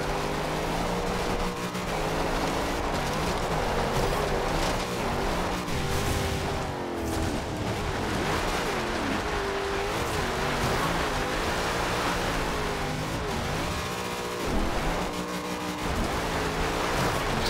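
A 1949 Mercury Coupe in the Forza Horizon 2 racing game drives offroad over bumpy terrain, its engine droning loudly and continuously with shifting pitch and rushing noise throughout, no speech.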